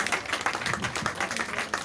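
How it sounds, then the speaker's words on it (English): An audience at a Rotary Rain Run prize distribution claps for an absent runner-up: a close, steady patter of many hands with small uneven bursts, sustained for a couple of seconds. "give her a round of applause even if she's not here."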